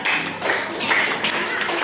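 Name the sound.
children's class clapping hands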